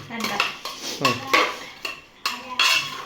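Beef being mixed with sunflower oil and spices for a beef biryani gives off repeated clattering scrapes of a spoon against a metal pot, in uneven bursts close by.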